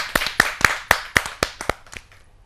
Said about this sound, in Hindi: तो जोरदार तालियों के साथ स्वागत।